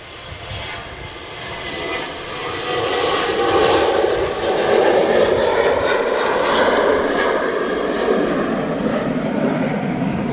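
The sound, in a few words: KLM Boeing 737 take-off roll departing Manchester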